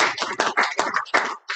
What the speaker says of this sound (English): a hand clap to the Lord